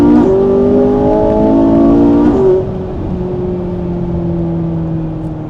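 A Ferrari supercar engine revs hard and then drops to a lower, steadier drone, loud and close with no voices over it.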